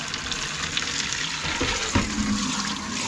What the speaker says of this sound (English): we'll get everything draining down this morning